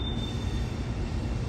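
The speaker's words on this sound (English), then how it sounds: "Amtrak Keystone Service train up front there has a Siemens City Sprinter electric locomotive" An Amtrak Keystone Service train hauled by a Siemens City Sprinter electric locomotive at the 1887 Pennsylvania Railroad station in Harrisburg: a steady, loud rumble of rolling rail cars with a faint high whine at the start.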